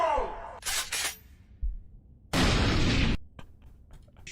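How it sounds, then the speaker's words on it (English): A spell explosion in World of Warcraft: a sharp crack and shattering burst, then a second louder blast lasting almost a second, followed by scattered fading debris pops. "Cast 50 caliber magic missile!"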